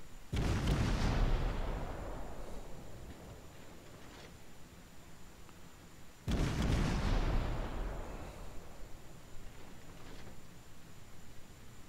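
Naval artillery salvos boom in World of Warships, two heavy blasts about six seconds apart, each a sharp low-heavy crack that rolls off into a long decaying rumble, with fainter distant thuds in between.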